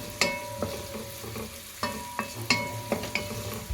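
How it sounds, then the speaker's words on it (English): Onions frying in a pan for butter chicken, stirred with a utensil: a steady sizzle runs under a series of sharp scraping and clinking stirs at an uneven rhythm, close and fairly loud, with no voices. "simmer the onions until it becomes slightly golden."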